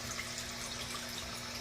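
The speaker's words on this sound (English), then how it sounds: "you can see how dirty this water is coming out." Dirty pond water drains out in a steady, continuous rush with a faint gurgle, close and even throughout, with no voices.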